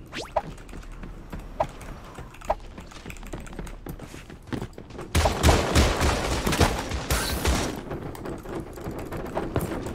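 Gunfire in the shooter game Creative Destruction: scattered single shots at first, then dense rapid bursts of automatic fire that swell louder halfway through and keep rattling to the end.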